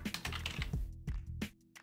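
Rapid bursts of keystrokes on a computer keyboard, close and crisp, in quick irregular clusters with a brief pause midway.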